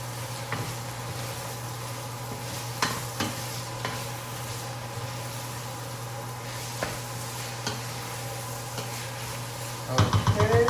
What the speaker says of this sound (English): Just mix that in with your meat.